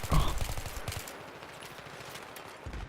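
Gunfire in the video game Battlefield 3, with a loud burst of automatic shots at the start trailing into a rapid rattle of fainter shots.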